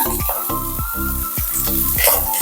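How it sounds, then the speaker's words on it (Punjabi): Onion, garlic and tomato hit hot mustard oil in a pan and fry with a steady, close, broadband sizzle, heard alongside a rhythmic, repeating tonal pattern, with no talking. "ਥੋੜਾ ਜਿਹਾ ਤੇਲ ਜਿਹੜਾ ਗਰਮ ਹੋ ਚੁੱਕਿਆ ਹੈ ਇਹਦੇ ਵਿੱਚ ਮੈਂ ਪਾਉਂਗੀ ਪਹਿਲਾਂ ਪਿਆਜ਼"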